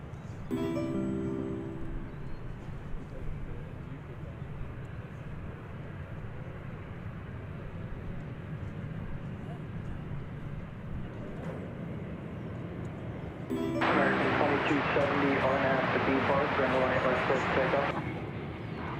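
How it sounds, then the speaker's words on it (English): An American Airlines Airbus A321 from Los Angeles arrives at a busy airport, a low distant jet rumble under steady airband radio chatter and talk, with a louder, brighter roar building near the end. "It's an Airbus A321."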